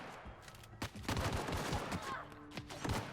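Gunfire in The Outer Worlds video game comes as loud close bursts of rapid shots with chaotic impacts, two clustered volleys separated by brief lulls, with no talk over it.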